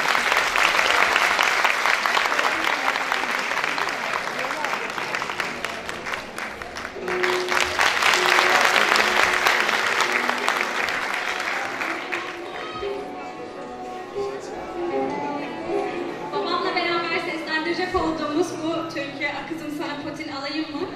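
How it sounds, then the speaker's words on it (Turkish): A Turkish concert crowd gives strong, dense applause to the soloists Fahrettin Oruç and Seçil Oruç for about twelve seconds, then the clapping thins as music begins and carries on. "Solistlerimiz Fahrettin Oruç ve Seçil Oruç, kuvvetli alkışlarınızla sizlerle."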